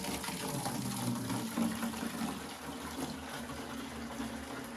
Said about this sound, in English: we are going to fill it about halfway with cold water, not hot water, cold water